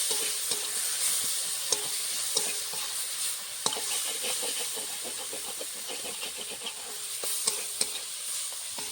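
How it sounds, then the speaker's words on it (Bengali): Spice paste frying with onion and garlic for a puti fish curry, a constant hissing sizzle with regular scraping stirs and sharp utensil taps against the pan, close and steady without talk. "মশলাটা আমি ভালো করে কষিয়ে নিয়ে গেছে পেঁয়াজ রসুনের সঙ্গে"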